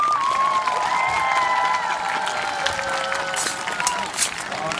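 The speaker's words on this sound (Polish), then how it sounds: "Oklaski dla rycerza po mojej lewej." Studio audience at a Polish knightly-themed contest show applauding and cheering for the contestant on the host's left, a dense, steady wash of clapping and shouts with no talk over it.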